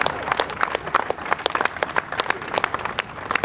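A live comedy-show audience at a Bundeswehr day event in Koblenz breaks into lively applause, many hands clapping densely and unevenly throughout, with a few crisp claps popping out near the front.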